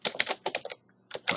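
Fast typing on a computer keyboard while entering router IPv6 configuration, with a quick burst of keystrokes, a short pause, then a few more clicks, close and clear.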